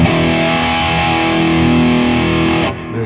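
Electric guitar played through a Valeton GP200 multi-effects unit with distortion and the mids cut and a little bass added, a loud sustained chord ringing for almost three seconds before being damped, with no talk.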